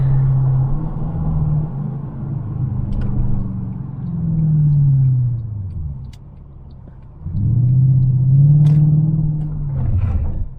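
Mercedes-Benz E500 Coupe with a 5.5 V8, its engine rumbling loud and close, rising and falling in repeated deep revving swells with a brief dip between bursts.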